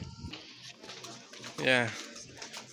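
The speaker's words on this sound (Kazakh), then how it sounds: "Көгершіндер." Pigeons coo on a street in Venice, Italy, amid outdoor city ambience. A brief, louder warbling coo stands out midway, and people talk nearby.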